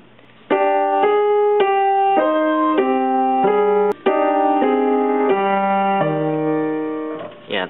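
Piano playing the Hollow Bastion theme with both hands, a steady sequence of clear melodic notes over lower accompanying tones, close and even in loudness, ending with a short fade and a soft knock.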